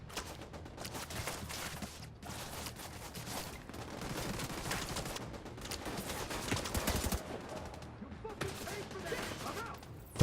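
Sustained gunfire in The Division 2, a beta-stage third-person shooter, with near-continuous automatic bursts and short pauses, fairly quiet and mixed under players' chatter.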